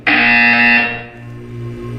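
A loud, harsh electronic buzzer from the video game Portal 2 blares at once, holding a strong, steady tone that softens slightly after about a second but keeps droning to the end.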